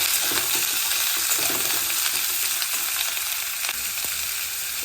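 Boiled mixed vegetables, including discarded vegetable stalks, are stirred and fried together in a pan, giving a steady close sizzle with scraping stir sounds throughout and no talking.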